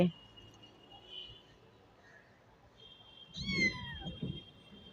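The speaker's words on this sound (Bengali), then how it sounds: "মিউ মিউ করছে" A cat meows in a rainy outdoor setting, giving one clear drawn-out meow near the end after a quiet stretch, close and moderately loud, with a faint voice and background noise earlier.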